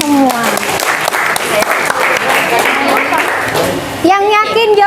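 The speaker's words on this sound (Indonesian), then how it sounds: "kalau finish silakan aplaus dulu buat kalian semua" Classroom applause from a group of students fills the space, a dense continuous patter of clapping mixed with children's voices and cheering, ending with a louder burst of excited shouts.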